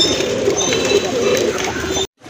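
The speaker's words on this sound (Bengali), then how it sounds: "আরেক জোড়া কবুতর দেখেন লাল শুল্লি কবুতর" Red pigeons kept for sale coo in low, throaty, repeated calls close by. Voices talk in the background, and the sound cuts off abruptly near the end.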